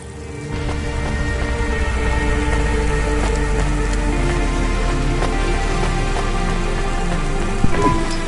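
Rain falling in the video game Cloudpunk, a steady hiss of drops over a low droning city hum with faint tonal ambience, constant and moderately loud, ending with a brief thump.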